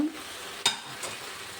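Okra (ladies finger) half-fried in a pan for gojju, making a low steady sizzle broken by one sharp clink of a spoon against the pan near the middle.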